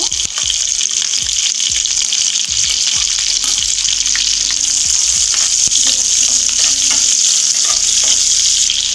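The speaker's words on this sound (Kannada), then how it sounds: "ಬೆಳ್ಳುಳ್ಳಿ ಸ್ವಲ್ಪ ಫ್ರೈ ಆಗಬೇಕು ಇದರಲ್ಲಿ. ನಂತರ ಹಸಿಮೆಣಸಿಕಾಯಿ, ನಂತರ ಈರುಳ್ಳಿಯನ್ನು ಹಾಕ್ಕೋಬೇಕು." Garlic, green chillies and onions fry in hot oil with a loud, constant hissing sizzle, broken by occasional dull knocks of stirring close by.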